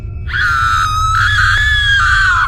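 A cartoon character screams like a madwoman in a Free Fire battleground game cartoon, a loud, sustained high-pitched shriek that wavers slightly and holds for about two seconds, alone with no talk.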